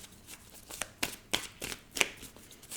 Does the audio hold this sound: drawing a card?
yes